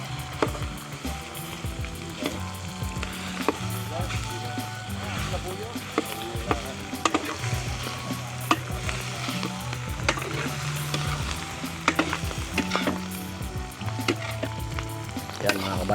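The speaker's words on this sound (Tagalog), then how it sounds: "May nagpiprito ng manok" Steady sizzling and crackling of chicken frying in hot oil at a village fiesta cookout, continuous throughout, with occasional stirring clatter and voices chatting nearby.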